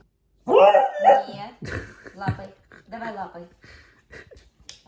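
A beagle whimpers and yips in short bursts close by, with vocal sounds continuing through the clip.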